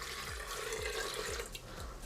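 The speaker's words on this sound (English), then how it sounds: "I'm just going to cover this with water, cold water, about an inch above this." Cold water from a tap pours steadily into a pot of beef for Jamaican stewed peas, a continuous close splashing rush with faint repeated low thumps underneath and no talking.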